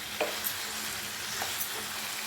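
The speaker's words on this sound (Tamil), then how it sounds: "ஒரு 2 நிமிஷம் நல்லா வதக்கிக்கோங்க." Quail pieces sautéing in a pan for a Tamil-style kaadai fry, a steady close sizzle with a few soft scrapes and clinks of stirring mixed in, and no voices.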